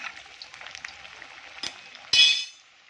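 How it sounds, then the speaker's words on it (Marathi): A potato and bread snack fries in hot oil in a kadhai, giving a soft continuous sizzle with a faint clink midway and a louder hiss swelling briefly near the end. "आता आपण तयार केला नाश्ता यात सोडून छान असं फ्राय करून घेऊया"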